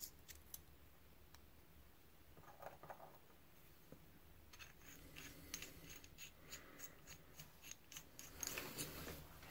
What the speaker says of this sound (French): il suffit de couper une lame en deux et de l'insérer